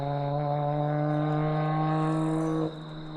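A nearby car with a Toyota JZ engine holds a loud, steady high-RPM drone with strong harmonics while skidding, then drops off sharply near the end, leaving a quieter idle-like hum.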